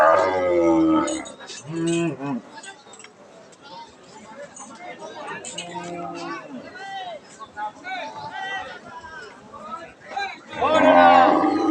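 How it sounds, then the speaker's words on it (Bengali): A Holstein Friesian cow moos repeatedly at a busy cattle market, several drawn-out calls close by, heard between and under steady chatter from people talking nearby. "গরুটা হল স্ট্যান্ড ফ্রিজিয়ান জাতের"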